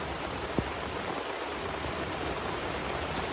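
Steady rain falls during an outdoor chicken party in the Konkan, an even dense hiss of drops on surfaces with one sharper tap near the start and no talking.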